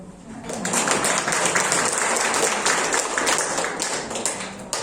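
Seminar audience applauding after a group presentation, a dense steady wash of many hands clapping that swells in and holds for several seconds.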